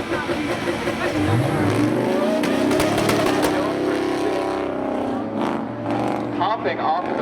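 Drag race cars launching at a speedway spectator drag event, a Mitsubishi against a Chevy S10, engines rising in a loud roaring sweep then fading, with an announcer talking over the noise.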